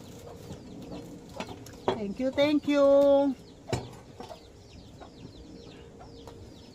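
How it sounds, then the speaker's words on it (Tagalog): Chickens outdoors clucking and squawking, a burst of loud, drawn-out calls mid-clip among scattered softer clucks and chirps of chicks, fairly close, with a brief spoken phrase. "Meron na naman ditong bagong manok yun oh."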